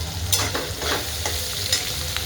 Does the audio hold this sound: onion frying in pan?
yes